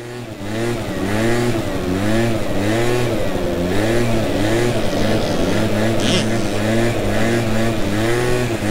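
A rider works a small 85cc motocross dirt bike through steady revving, the engine note rising and falling in a continuous loud drone at close range.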